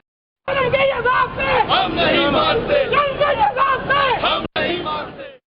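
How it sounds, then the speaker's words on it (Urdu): Crowd of lawyers chanting slogans at a street rally, a loud, rhythmic chorus of many voices repeating a call, cutting off briefly near the end before resuming. "اجلاس کے بعد وکلاء کی بڑی تعداد نے ایوان عدل سے پی ایم جی چوک تک ریلی نکالی اور نعرے بازی کی۔"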